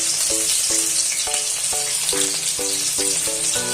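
Chopped garlic and chili frying in a pan, a loud continuous sizzle close up, with regular spoon or spatula taps ringing against the pan about twice a second.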